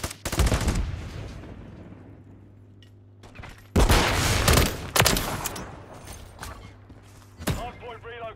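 Video game gunfire at targets, sharp loud bursts of automatic shots in separate volleys with quieter gaps, plus a short mechanical rattle near the end.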